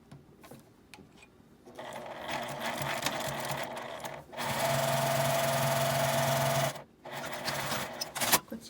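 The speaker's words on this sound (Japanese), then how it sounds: "表側だけ端ミシンをかけます。" A sewing machine topstitches along the edge of a zipper pouch, running in steady whirring bursts of several seconds with brief pauses, close and fairly quiet.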